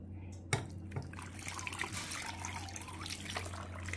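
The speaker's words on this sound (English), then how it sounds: "And then I'm gonna put about a liter and a half of water," About a liter and a half of water poured into a pot for soup, a steady splashing, gurgling stream heard close and continuous over a low kitchen hum.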